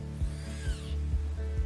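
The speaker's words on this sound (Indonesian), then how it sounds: "Yang pertama adalah membor kincut." A power drill bores holes into a kincut, the metal mould used for making kincut, with a steady whine and repeated rhythmic clicks from the mechanism, close and loud, with no talk.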